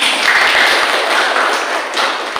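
Applause from an audience at a midwifery academy teaching session, a dense continuous wash of many hands clapping, loud and steady throughout with no pause.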